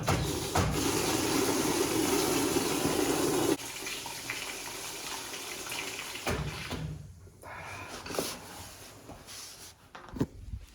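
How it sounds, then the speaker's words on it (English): Water gushes from a released heating system into a bucket, a loud steady rush for the first few seconds, then a quieter trickle and gurgle with a few small knocks near the end. "Release the pressure off into this bucket"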